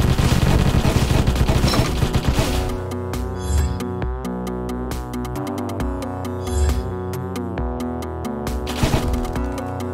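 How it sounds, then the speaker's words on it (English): Ice bullets fired in the video game Deathstate: a dense, rapid stream of loud, ringing, tonal shots, starting as a thick barrage and then settling into a quicker, rhythmic patter. "So now we shoot ice, which looks slightly worse."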